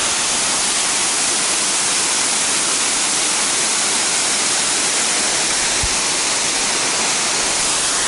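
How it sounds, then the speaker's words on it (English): A waterfall pouring off a sheer rock face in the 100-mile wilderness of the Appalachian Trail, a loud, dense and constant broadband rush heard up close, with no voices. "and this is a waterfall."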